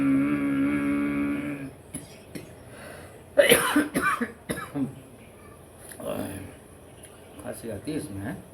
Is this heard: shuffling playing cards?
no